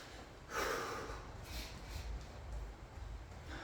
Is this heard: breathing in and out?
yes